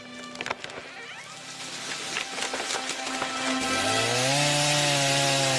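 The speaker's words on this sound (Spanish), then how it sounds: "Mientras las motosierras emiten su característico ronroneo mecánico" Chainsaws whine steadily while loggers fell decades-old chestnut trees on a forested hillside, the engine note rising and climbing in pitch as the cut deepens, loud and continuous with no talk.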